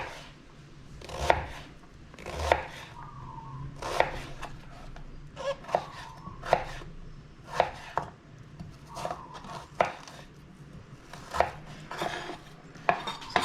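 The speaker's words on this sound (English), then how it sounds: "for the onions, I'm just gonna cut them in rounds, half moons" Knife chopping a whole onion into half-moon rounds on a cutting board, a steady series of crisp, close knocks roughly every second, with a faint soft hum underneath and no talking.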